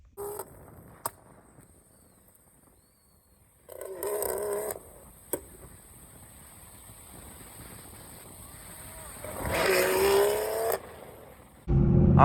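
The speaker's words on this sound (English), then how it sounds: "keep blipping as the RPM's dropping until I hear the boom" A BMW B58 engine revs in short blips and a longer sustained burst, with sharp exhaust pops between, fairly close and loud against quieter engine idle.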